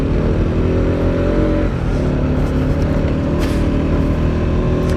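A Bajaj Pulsar NS200 motorcycle climbs a hill road with its engine droning loud and steady throughout, holding a constant throttle without pauses.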